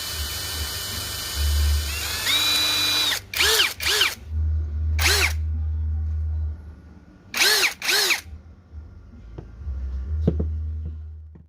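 A cordless MLHY 21V brushless impact drill with a variable speed trigger whirs in short runs, winding up and spinning down several times in quick pairs, loud and near, with pauses between.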